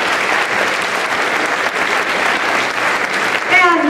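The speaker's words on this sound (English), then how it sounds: "I'd like you to give them each a big round of applause" An audience at an eighth-grade promotion ceremony gives loud, dense applause to members of the school's board of directors, with continuous clapping throughout and a faint voice starting near the end.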